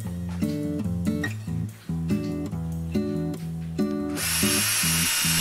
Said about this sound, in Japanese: さっきと同じように電動ドリルで下穴を広げます。